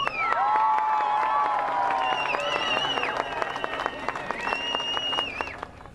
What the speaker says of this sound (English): a hero's welcome from the crowd